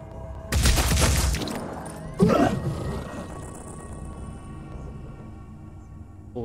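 Gunfire in the video game Phoenix Point: Year One Edition, heard as two heavy blasts, the first a dense burst and the second a sharp crack, each fading into a low rumbling tail.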